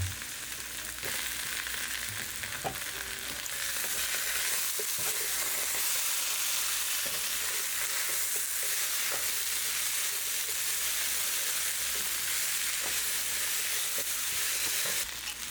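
Chopped potatoes and bacon sizzle steadily in a soup pot, a continuous loud frying hiss with scattered clacks and scrapes of stirring throughout.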